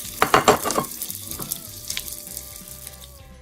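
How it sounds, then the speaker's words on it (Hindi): Edible gum hitting hot ghee in a frying pan gives a burst of crackling sizzle up close, which then settles into a quieter, steady bubbling fry. "चार टेबलस्पून घी में 2 टेबलस्पून गोंद डाल देंगे, इसको फ्राई करेंगे।"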